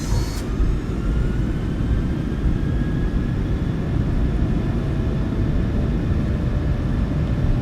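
A steady, loud broadband roar with rising tonal whine comes from PMDG 737-800 engines spooling up to takeoff power in the MSFS2024 flight simulator, continuous and alone.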